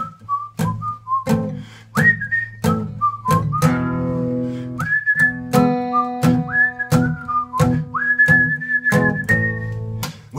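A person whistles a lively melody alone, with clear sustained notes, quick slides and short pauses between phrases, close and loud.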